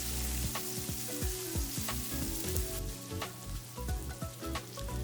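Roughly chopped onion frying in the juices left from pork chops, a loud close sizzle with crackling pops and spoon scrapes as it is moved around the pan.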